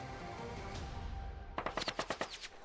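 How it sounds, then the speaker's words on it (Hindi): A quick string of about eight gunshots captured on street CCTV footage, sharp evenly spaced cracks in a fast volley following a stretch of quiet ambient noise. "तभी अचानक से गोली चलती है।"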